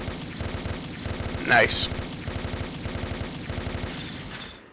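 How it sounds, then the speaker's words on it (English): A Delta Gundam fires its Vulcan machine guns in the game SD Gundam Online, a fast rattling stream of rapid shots running throughout, broken by a sharp sweeping effect, while a player speaks briefly. "they say they're Vulcan guns, but in fact they're machine gun range"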